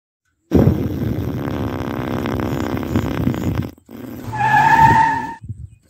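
A car skids in a cartoon scene with a long, rough, grinding rush followed by a high, wavering tyre squeal, loud and close, then a short silence.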